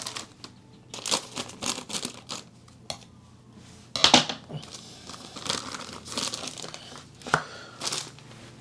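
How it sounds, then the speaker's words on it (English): Scissors snipping and slicing through the packaging of an MSI Claw handheld gaming PC, with crinkling plastic and paper and several sharp clicks and cuts, close and fairly quiet. "Let's get our scissors and open that up."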